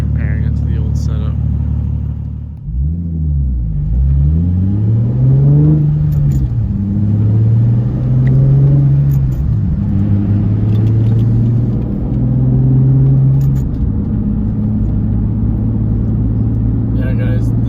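Nissan Z sports car engine breathing through a new Tomei exhaust, a deep steady rumble that rises and falls with a few revs before settling into a smooth idle drone, close by, with faint talk in the background.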